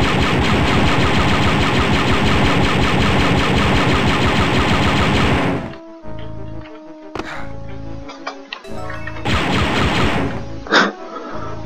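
Rapid blaster and gunfire in the retro Star Wars Dark Forces shooter, a loud continuous burst for several seconds, then sparse shots, mechanical hums and another brief volley.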